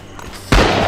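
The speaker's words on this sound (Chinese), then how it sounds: "手榴弾だ。" A grenade blows up in the World War II shooter Rising Storm, as a sudden loud, close boom cuts off quieter battlefield noise and its heavy rumble carries on to the end.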